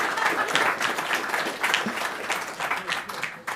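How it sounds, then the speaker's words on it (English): Applause from an audience at a tech conference talk, moderately loud and uneven clapping that swells and eases, with a few voices audible beneath it. "Please clap."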